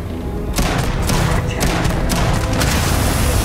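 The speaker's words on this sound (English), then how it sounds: "I shot a container next to him and it blew." A corrosive gas container bursts in the Starfield video game, setting off a loud, sustained blast with rumbling and crackling that continues for several seconds, with no voices.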